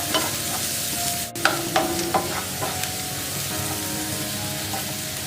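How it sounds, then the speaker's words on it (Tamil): Onions fry in a pan for masala idli made from leftover idli, a steady sizzle broken by a few sharp scraping stirs early on, close and alone with no talk. "இப்போ நமக்கு நல்லா ஆனியன் வந்து நல்லா ஃப்ரை ஆகிடுச்சு"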